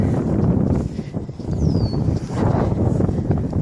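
Low, gusty wind buffets the microphone in uneven rumbling waves, with a faint bird chirp briefly rising above it.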